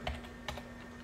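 Router commands typed on a computer keyboard, giving a couple of distinct key clicks over a faint steady hum.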